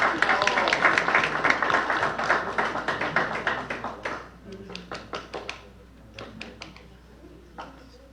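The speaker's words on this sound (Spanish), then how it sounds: "Un aplauso para Jorgito." Applause at a book launch event for a security book in Ecuador, a dense burst of clapping from an audience that thins out into scattered individual claps near the end, with some voices mixed in.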